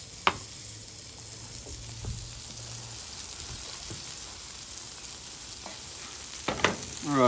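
Steady soft sizzling of buttered ciabatta toasting on a hot griddle, with a few scraping clicks and taps from utensils along the way.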